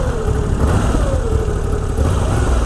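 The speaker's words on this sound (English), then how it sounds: "She sounds great when you start her up" A 2019 Moto Guzzi V85TT motorcycle engine runs at a steady, close, throbbing idle, holding an even level throughout with a slight dip and rise in pitch.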